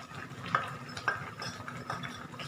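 Beef tripe being stirred in a pan with salt and seasoning, Aceh-style with green chili, giving soft scraping strokes and a few sharper utensil knocks against the pan over a low background sizzle.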